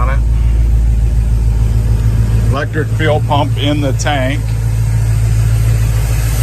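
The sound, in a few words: car engine running through dual exhaust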